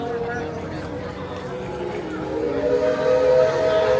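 A train at Magic Kingdom, Walt Disney World, hums with a sustained whistle-like tone that grows louder toward the end, heard amid steady outdoor park ambience.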